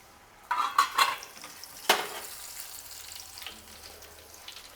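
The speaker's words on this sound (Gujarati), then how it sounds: "એ પણ આ જ રીતે ચાયણામાં ઉમેરી અને તળી લેશું." Rice flakes (poha) fried in hot oil inside a sieve for a panipuri-flavoured chevdo give a few sharp, crackling sizzle bursts near the start, then settle into a faint, steady hiss with light scraping.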